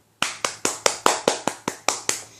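Eleven sharp, evenly spaced hand claps from a single person or small group, close and crisp, each with a quick decay, in a steady rhythm lasting about two seconds.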